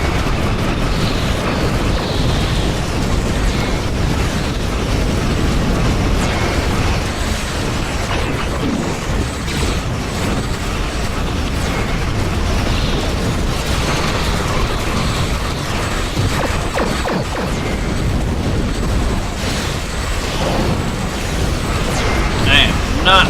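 Tholian artillery explosions rumble through a Star Trek space-combat game, a dense, continuous wash of booms and mechanical bursts layered with game noise, loud and unbroken throughout.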